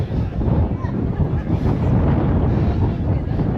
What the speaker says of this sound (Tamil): இன்றைக்கி கொஞ்சம் காற்று ஜாஸ்தி